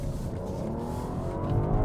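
A 2022 BMW 7-Series hybrid luxury sedan pulling hard under acceleration, its engine a steady, rising drone heard from inside the cabin with no talk over it.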